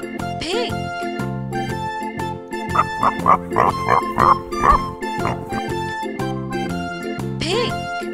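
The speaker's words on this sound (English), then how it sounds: "Pig." Pig oinking in a quick series of short grunts at moderate loudness, set over steady cheerful background music with brief vocal-like swoops at the start and end.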